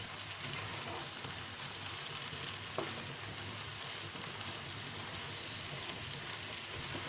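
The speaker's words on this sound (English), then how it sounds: "I already put all the ingredients in this fry pan. So moving it now so that it will not get burned" Stew ingredients fry in a pan with a faint, steady sizzle and crackle while being stirred, one soft scrape standing out briefly, with no voices.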